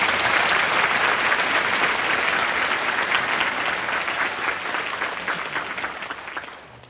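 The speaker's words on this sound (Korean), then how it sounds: "박수 한번 보내주세요." A crowd at a Jeju provincial government New Year work-opening ceremony applauds loudly and continuously, a dense wash of many hands that holds steady and then fades out toward the end.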